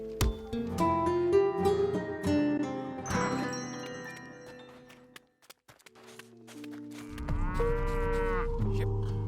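Bororo cattle in the Sand Land video game moo in long, drawn-out calls over layered game music and ambience, with a deeper, louder lowing near the end.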